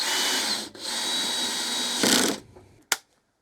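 A power drill whines at high speed driving a screw into wood, pauses, runs again and winds down, followed by a sharp click; close and loud.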